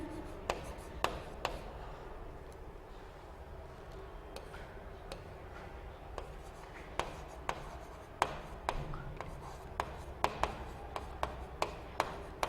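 Chalk or marker taps and scrapes on a board in a quiet classroom while equations are written out, a scattering of short, sharp strokes and faint rubbing sounds over low room hiss.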